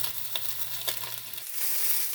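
Bacon fries in a pan with a soft, steady sizzle and a few faint pops, fairly quiet and close, with no one talking; the crackle briefly rises in brightness toward the end.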